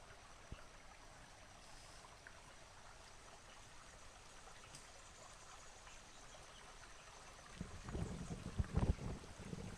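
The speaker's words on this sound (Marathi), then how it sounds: "वरती झऱ्याचं पाणी तुम्ही समोर बघू शकता. झऱ्याचं पाणी आहे." Spring water flowing down a hillside among Konkan mango orchards, a faint steady trickling rush in the background, with louder close knocks and rustling toward the end.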